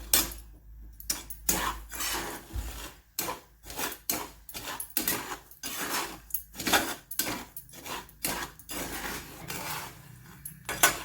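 Chickpeas tumbled and stirred through hot salt in a pan for roasting, a busy rhythmic rattle and scrape of the spoon and grains repeating every half second or so, close and fairly loud, no talking.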